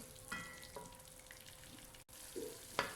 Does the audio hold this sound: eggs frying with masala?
yes